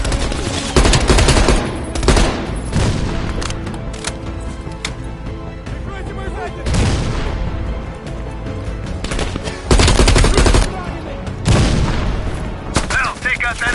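Machine gun fire in Call of Duty Cold War on PS5, loud sustained bursts of rapid automatic shots and booming explosions that come in waves, with voices shouting over the battle.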